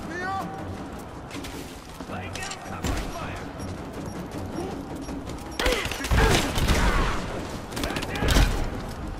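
Gunfire in the video game Rise of the Tomb Raider, a dense run of rapid shots and bursts with louder crashing volleys later on, mixed with game effects and voices talking over the action.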